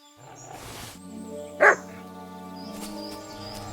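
Dog barking in the medieval role-playing game Kingdom Come: Deliverance II, a single sharp nearby bark rising over a steady game ambience and low background tones.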